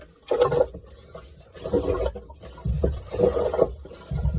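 A Jabsco marine toilet pump on a Cornish Shrimper 19 sailboat draws in water in rhythmic bursts, several gurgling, sloshing strokes with short pauses between them.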